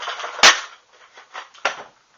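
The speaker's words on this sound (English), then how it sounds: "this is what happens if you slam fire too fast" A Nerf Doomlands Vagabond cylinder shotgun blaster slam-fires: one loud, sharp pop up close, then a few softer snaps and clicks in quick, uneven succession.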